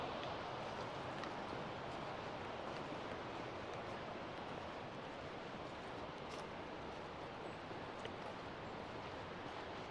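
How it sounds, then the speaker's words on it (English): Broadband rushing water of a river flowing over porphyry boulders in Val di Cembra, a steady, full roar that stays constant throughout with no voices. "Here's the river. We're almost at the river level."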